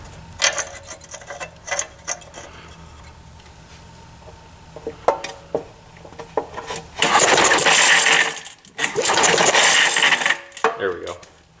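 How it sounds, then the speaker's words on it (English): Recoil starter on a vintage 5hp Briggs & Stratton small generator engine, pulled twice as a test: two loud, close whirring bursts of a few seconds each, preceded by scattered clicks, knocks and some talking. "So go ahead and give it a couple of test pulls."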